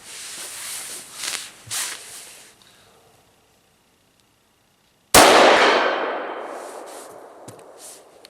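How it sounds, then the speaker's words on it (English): An unsuppressed rifle fires at a steel target 100 yards away, giving one sharp, loud muzzle blast followed by a long decaying ring; softer rustling and handling noises come before the shot and after it. "See if you can separate the muzzle blast, the noise coming from the gun, and the steel being impacted"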